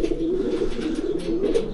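Pigeons in a breeding loft coo continuously in a close, dense chorus of low rolling calls that overlap without pause.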